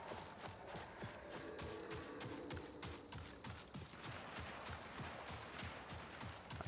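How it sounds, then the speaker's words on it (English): Gunfire in the video game Marathon, a rapid rhythmic burst of shots with mechanical clatter, continuous over several seconds at moderate distance. "I hear gunfire."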